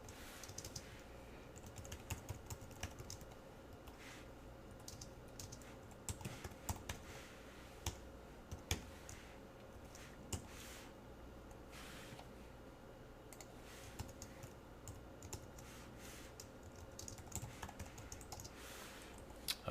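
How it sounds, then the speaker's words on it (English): Someone types JavaScript code on a computer keyboard, a quiet, uneven run of close key clicks and taps with short pauses between bursts. Nobody talks. "Now, as I'm typing this"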